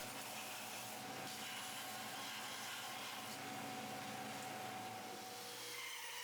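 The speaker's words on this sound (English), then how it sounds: "I'm using the belt sander to shape the handles." A belt sander shapes the wooden handles of mallets made from offcuts, giving a steady, loud, broadband whir with faint rubbing of wood against the belt, running continuously throughout without speech.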